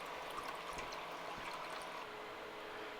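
Water leaks steadily from a burst joint on an unfilled-vent boat tank aboard a sailboat, a faint continuous trickle and hiss with no voices.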